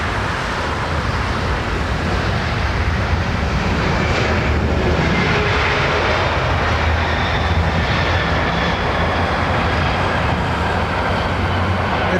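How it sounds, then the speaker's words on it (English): Rolls-Royce Trent 900 jet engines spooling up at London Heathrow Airport, a steady broadband roar with deep low rumble, fairly distant and wind-affected, continuous for the whole stretch with no talk. "Got a very distinct, deep bass start up on those Trent 900s."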